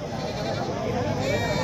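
Goats bleat at the Takhatpur goat market near Bilaspur, their cries mixed into a dense, busy din of crowd noise and nearby voices.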